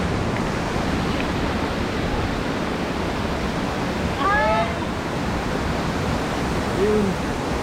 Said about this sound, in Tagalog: So, tignan natin yung kanyang falls.